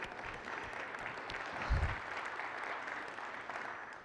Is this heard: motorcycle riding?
no